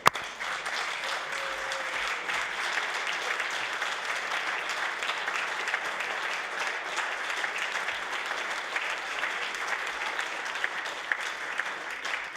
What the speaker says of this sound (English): let the House put a good round of applause